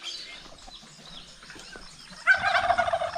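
Farm turkeys burst into a loud, warbling gobble partway through, after a quieter stretch of faint bird calls, with small geese kept nearby.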